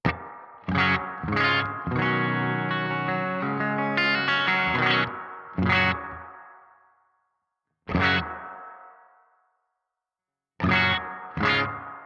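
Electric guitar, a Les Paul Goldtop through a BOSS GT-1000 Core with a JC-120 amp model, plays bright chords and short strums, with clear gaps of silence between phrases and no talking.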